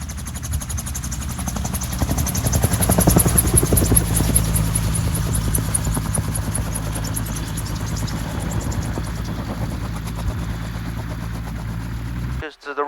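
Cavalon autogyro rotors spinning down after a short landing, a steady loud whirring engine and rotor drone with rhythmic chopping that holds for most of the stretch before cutting off abruptly near the end, with people talking underneath.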